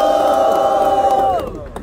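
Rap battle audience at Batalha do Coliseu roaring in a dense sustained crowd shout and cheer, loud and close, with a chanted yell that tapers off near the end.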